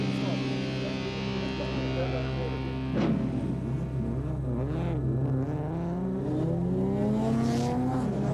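Bridgestone Production Cars race around the Killarney circuit in Cape Town, their engines droning loudly and steadily with rising revving sweeps as they pass. The engine noise runs on without a break under a commentator's voice.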